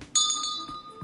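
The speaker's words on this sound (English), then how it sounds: "let's ring the doorbell" A doorbell gives a bright metallic ring that starts abruptly, pulses quickly a few times, then fades into a thin lingering tone over a quiet background.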